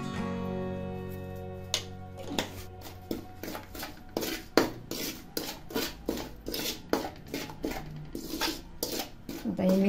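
A spoon clinks and scrapes against a metal bowl or pan as chili powder and salt are stirred together for Kolhapuri bhadang, a steady run of close, bright taps and rasping scrapes.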